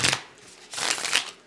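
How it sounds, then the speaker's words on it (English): A tarot card deck being shuffled by hand: a short riffling burst, a pause, then a longer papery flutter of cards, fairly close and steady, with no talking. "you guys are going to get to watch me shuffle"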